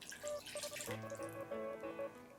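Water is poured from a glass into a cooking pot with leeks, tomato paste and pomegranate syrup, giving a short, soft, bubbling trickle over a few seconds, fairly quiet and close.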